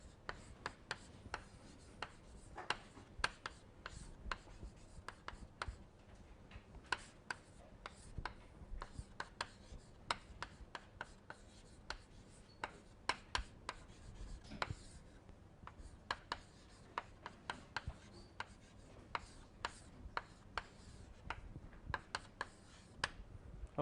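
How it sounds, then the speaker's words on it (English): Chalk or pen writes out an equation on a board during a fluid mechanics lecture on Falkner-Skan similarity solutions, making steady scratchy taps and strokes that continue for over twenty seconds, quiet and close, with no talking. "So I am going to write it down."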